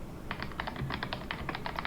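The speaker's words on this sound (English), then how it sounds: "And it looks like we have a demo of her keyboard," Typing on a custom KBD67 Lite mechanical keyboard fitted with Gateron Ink Black switches, a quick run of close, crisp keystrokes in an even, rapid rhythm with no voices.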